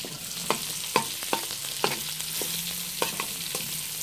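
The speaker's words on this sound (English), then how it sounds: "I'm just frying off the garlic and onion now." Steady sizzle of garlic and onion frying in a pan for a lamb stir-fry, with a few sharp clicks and scrapes of stirring spread through it, fairly close.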